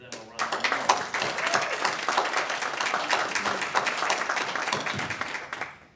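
Audience applause at a Rotary Club forum on substance use disorder, a burst of dense clapping that builds quickly, holds steady for several seconds and then fades out.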